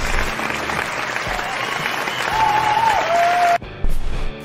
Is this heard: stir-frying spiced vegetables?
no